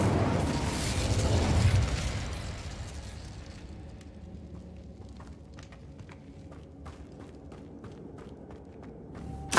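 Incendio fire spell cast in Hogwarts Legacy erupts as a loud whooshing burst that fades over a couple of seconds, followed by quieter clicks, steps and small pops.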